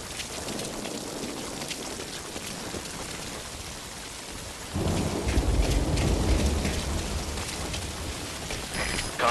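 Heavy rain pours steadily in the Metal Gear Solid V: Ground Zeroes video game, a dense hiss that jumps louder partway through with deep rumbling beneath, continuous and without talk.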